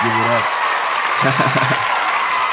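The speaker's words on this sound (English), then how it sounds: "I want everybody to give a big, warm round of applause" A podcast audience applauds a guest in a steady wash of clapping that runs the whole clip, with a voice speaking over it at the start and again midway.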